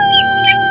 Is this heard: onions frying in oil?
no